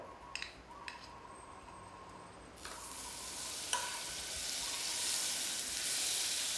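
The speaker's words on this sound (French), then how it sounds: "On va mettre du beurre dans la casserole." Butter sizzles and crackles in a saucepan, the frying hiss swelling louder after a few light clicks and taps.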